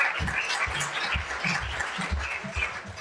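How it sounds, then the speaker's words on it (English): Audience applause for graduating students at an evening event, steady moderate clapping with a few voices underneath. "that's a big round of applause for all our graduating graduates"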